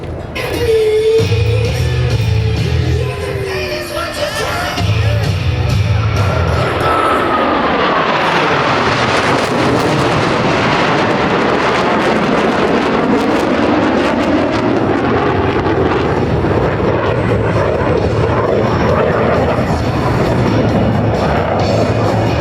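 U.S. Navy Blue Angels jets roar past at a Pax River air show during a low break cross, a loud swelling jet rush that sweeps by with a descending whine and lingers as a long, fading roar.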